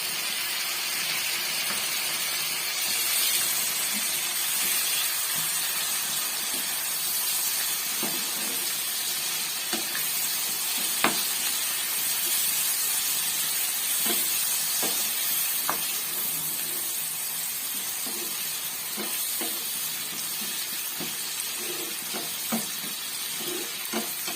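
Bamboo shoot fries with small fish in a pan, giving a continuous loud sizzle and hiss with occasional sharp clinks and scrapes from stirring, no talking.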